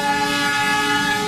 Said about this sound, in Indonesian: ada kereta api karena rumahku itu dekat sama kereta api